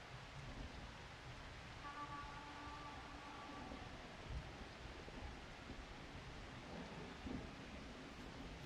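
Rain and wind in a Blood Bowl III match, a steady low rumbling wash of weather noise that runs throughout at moderate level, with a faint deeper thunder swell near the end.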